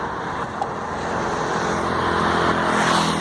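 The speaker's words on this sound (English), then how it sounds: "look at the trucks going by" Traffic roaring past on a Vietnamese highway, with trucks going by in a dense, loud, continuous rush that swells slightly toward the end, close to the roadside.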